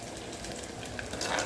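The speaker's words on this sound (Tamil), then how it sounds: "வெங்காயம் பச்சை மிளகாய் சேர்த்து வதக்கிட்டு இருக்கேன்" Onions and green chillies sautéing in a pan for a brinjal kuzhambu, a steady close sizzle and crackle of frying with faint stirring, no talking.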